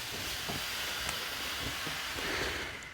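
A steam iron pressing the pockets of jeans gives off a steady, broad hissing rush of steam, with faint soft thumps of the iron moving on the fabric.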